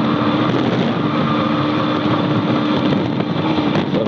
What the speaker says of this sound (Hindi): दिल खुश कर देती है जब ये मेरी बाइक भागती है।